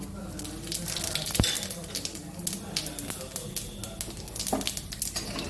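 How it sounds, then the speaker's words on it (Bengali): Three bay leaves, a dried red chili and cumin seeds frying in hot oil in a pan, a steady crackling sizzle with scattered pops, a sharp tap near the middle, running close under a faint voice. "2 সেকেন্ড আমি একটু ফোড়নটা ভেজে নিলাম"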